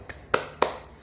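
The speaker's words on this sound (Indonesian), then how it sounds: "Tepuk sukacita" Kindergarten children clap in a rhythmic joy clap, heard as two crisp, fairly quiet hand claps spaced evenly apart, with a softer tap before them.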